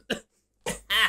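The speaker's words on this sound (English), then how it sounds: "I'm about to cough." One short cough, then a pause, then two more harsh coughs in quick succession, close and fairly loud with no talking.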